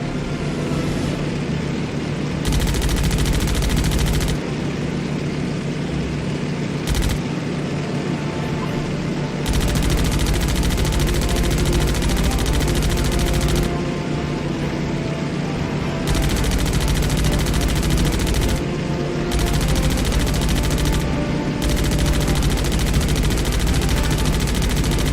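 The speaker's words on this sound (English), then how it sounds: "Your guns should make short work of them." Rapid machine-gun bursts fire in a combat flight game over Pearl Harbor while shooting up rusted old jeeps, loud rattling volleys starting and stopping repeatedly over a constant droning aircraft engine.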